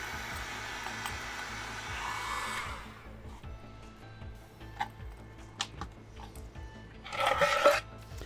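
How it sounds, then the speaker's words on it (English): A heat gun blows hot air onto a plastic helmet part on a heat board to flatten it: a close, steady whooshing hiss for a few seconds that then cuts out, followed by light clicks and handling noises. "we're going to take a heat gun to this"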